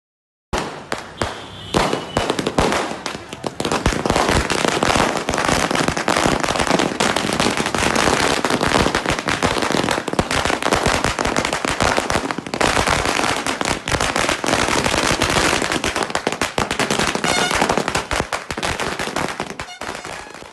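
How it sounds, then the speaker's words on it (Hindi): Celebratory fireworks and strings of firecrackers go off in Nanded for about twenty seconds, a loud, unbroken crackle of rapid bangs and pops with almost no pauses. The noise is close and harsh and drowns out everything else. "आतिशबाजी और ढोल ताशों के जरिए अपनी खुशी का इजहार किया"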